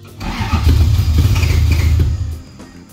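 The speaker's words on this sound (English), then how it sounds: "try cranking and seeing what it does there" A Toyota 1UZ V8 swapped into a Celica RA64 cranks over for about two seconds, a loud, close, rumbling starter-and-engine churn that cuts off abruptly, heard alone without talk.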